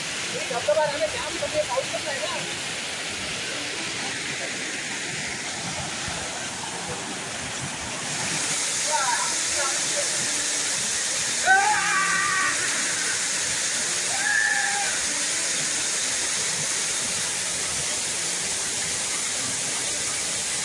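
A waterfall on a hill trek through the Mahalmirya hills toward the Vyaghreshwar temple pours in a steady, broad rushing roar that swells slightly partway through, with faint voices now and then.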